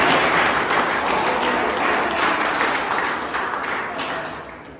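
Applause from a group during a bike tour gathering near Ramnagar, a dense wash of clapping that stays loud and steady before gradually thinning out toward the end.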